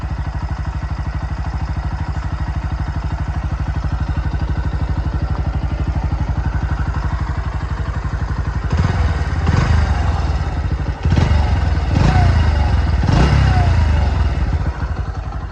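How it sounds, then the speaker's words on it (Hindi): A Bajaj Pulsar NS125 motorcycle engine, just after its second service, idles with a steady, throbbing rumble, then revs up sharply several times in short bursts before settling back down. "आइडलिंग की आवाज़ सुना दूँगा, ज़्यादा रैप तो नहीं करूँगा यार मैं बाइक को"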